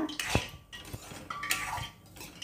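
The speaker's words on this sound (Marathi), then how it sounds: "हा रवा मी भाजून घेते" Semolina being roasted in a pan and stirred with a metal spoon, giving a few distinct clinks and scrapes against the pan at irregular intervals, close and moderately quiet.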